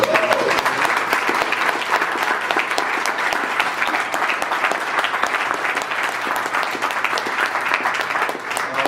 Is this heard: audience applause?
yes